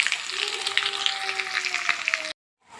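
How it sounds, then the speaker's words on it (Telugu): Crushed cumin, mustard seeds and garlic fry in hot oil as a tempering for fenugreek-leaf dal. A close, dense, crackling sizzle runs steadily, then cuts off abruptly near the end. "ఆయిల్ హీట్ అయింది కదా, ఇందులోనే జీలకర్ర, ఆవాలు దంచుకున్నాం కదా వెల్లుల్లి, అవి వేసుకున్నాం."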